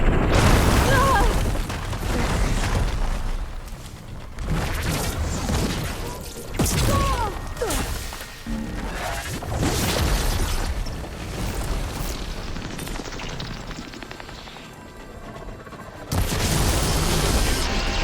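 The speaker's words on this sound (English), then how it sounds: "it looks like Zoe's giving it some supporting" Heavy booms and bursts of supporting fire roll through a Horizon Forbidden West battle, with loud blasts at the start and end and a fainter stretch in between, partly under spoken dialogue.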